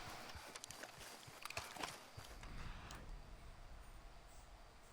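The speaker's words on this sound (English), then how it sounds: "I heard a horse." Faint, steady clip-clop of horse hooves at a walking pace in Red Dead Redemption 2, set against quiet ambient background noise.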